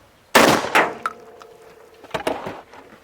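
A Beretta 1301 shotgun fires a single buckshot round at a target 15 yards away, a sharp loud blast with a short echoing tail, followed by a few quieter clacks and knocks.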